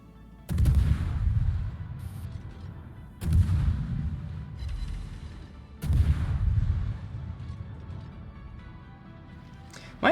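Heavy naval gunfire in a warship video game, three loud booming salvos spaced about three seconds apart, each followed by a long rumbling decay, with faint engine and water noise between them.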